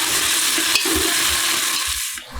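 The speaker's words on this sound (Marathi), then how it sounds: "एक टोमॅटो बारीक चिरून घेतलाय तो घालून घेऊया मी परतून घेऊया" Finely chopped tomato sautéing in a pan of onions fried until reddish, a loud continuous sizzle with stirring scrapes and a brief dip near the end, no voices.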